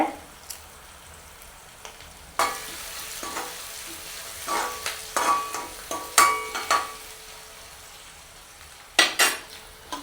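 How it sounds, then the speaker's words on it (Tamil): Onions and curry leaves sauté in a pan for curry buns, giving a faint sizzle broken by sharp scraping and stirring clatters of a spoon against metal, clustered in bursts with quiet gaps. "வெங்காயம் அப்படியே வதக்கிடுவோம் அதோட கொஞ்சமாக கருவேப்பமில"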